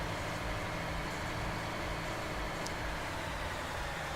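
A semi truck hauling a container trailer in a truck-driving game, its engine giving a steady, dense low rumble and broadband hum throughout, even and unbroken with no talk.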